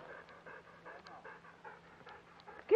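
A dog pants close by in steady, rapid rhythmic breaths, quiet and even throughout, ending in a short high whine.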